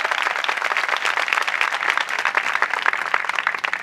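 A church congregation claps their hands together in thanks to the Lord, a dense and steady wash of applause that holds for a few seconds with no voices over it.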